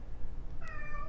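A cat meows once, a short clear tonal call rising over a steady low room hum in a quiet indoor space.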